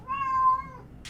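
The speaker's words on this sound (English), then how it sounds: "Oh, that's my cat." A single clear cat meow, drawn out and fairly close, followed by a soft brief noise in otherwise quiet surroundings.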